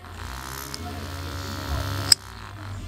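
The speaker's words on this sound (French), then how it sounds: "il y a ici un petit ventilateur. Si je l'allume, vous l'entendrez." Small electric fan running inside a homemade cockpit, a steady close buzzing whir with a sharp click near the end, with no voices over it.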